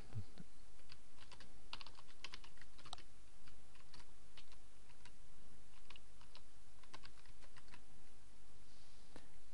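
Steady keyboard typing while entering a search for a Google Analytics plugin in the WordPress plugin directory, a continuous run of close, light key clicks with a few louder taps, and no talking.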